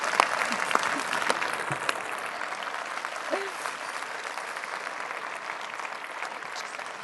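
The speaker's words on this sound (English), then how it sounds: "Please give a round of applause to our wonderful panel." Sustained audience applause fills a Conservative Party conference hall in Manchester, a dense, even wash of many hands clapping that holds steady throughout, with a few voices faintly mixed in.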